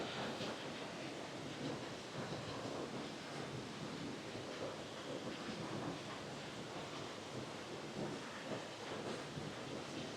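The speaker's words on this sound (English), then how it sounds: "Quite a bit of water flow." Creek water flowing beneath a bridge on the Lower Falls Creek trail in Gifford Pinchot National Forest, a steady, full rushing roar that holds constant throughout without pauses.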